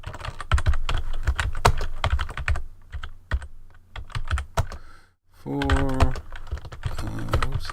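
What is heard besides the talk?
typing a web page title on a computer keyboard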